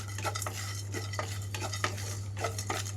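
Whole cloves and cinnamon sizzle faintly in a pan while a spoon scrapes and stirs them in quick repeated strokes, close and with no talk.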